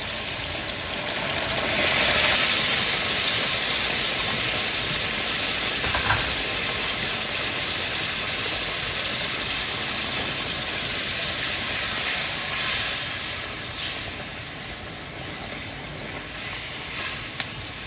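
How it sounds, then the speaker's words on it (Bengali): Hot water poured into an already hot cooking pot, giving a steady loud steaming hiss that swells early and holds for many seconds with a faint high whine. "এখন এতে দিয়ে দিচ্ছি গরম পানি"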